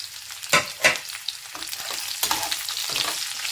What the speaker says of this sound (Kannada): ಚೆನ್ನಾಗಿ ಫ್ರೈ ಮಾಡ್ಕೊಳ್ಳೋಣ. ನೀಟಾಗಿ ಫ್ರೈ ಆಗಬೇಕು ನಮಗೆ ಆಯಿಲಲ್ಲೇ ಚೆನ್ನಾಗಿ.